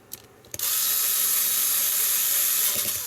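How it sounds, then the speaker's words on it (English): Screwdriver driving Phillips screws into a Nintendo GameCube casing, a couple of light clicks and then a steady close whirring hiss, like a small electric driver running continuously. "And if I had a screwdriver at hand, which I do"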